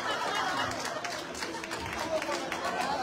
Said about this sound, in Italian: glielo facciamo un applauso a Mr.